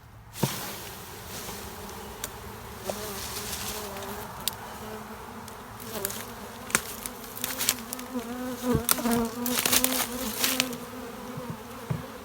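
Honeybee swarm shaken from a branch: a dense, continuous buzzing drone of many bees, with louder individual bees zipping past close by and leaf rustles and knocks scattered throughout.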